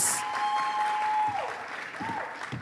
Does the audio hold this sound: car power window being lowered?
no